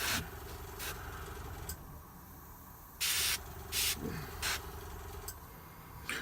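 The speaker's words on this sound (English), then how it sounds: "you've got to be really careful to use the pressure of the airbrush" An airbrush sprays paint onto Space Wolf and Space Hulk miniature models in short hissing bursts of a second or less, separated by pauses over a low background hum.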